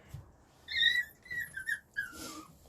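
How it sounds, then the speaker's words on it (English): Goldendoodle puppies wrestling in a crate give off a few high, thin whines and squeaky yelps in short bursts, fairly close and moderately loud, with soft scuffling between them. "So the puppies making those sounds are the ones in the crate that are wrestling"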